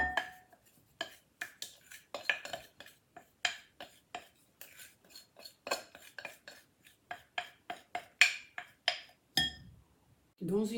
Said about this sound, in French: On commence par mélanger les deux chocolats.